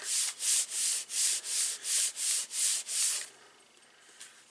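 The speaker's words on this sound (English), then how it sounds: "just going to close my card, give it a little rub" A closed paper greeting card is rubbed by hand to press it together, nine even back-and-forth swishing strokes in a steady rhythm, close and fairly soft, then quiet.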